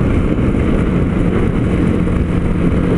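A TVS Apache RTR 310 motorcycle engine pushed hard at high speed, around 140 km/h and above, a loud steady drone with heavy wind roar, no talking.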